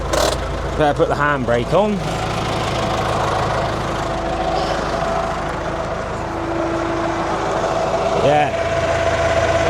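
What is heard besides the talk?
Case 4230 tractor engine idling with PTO running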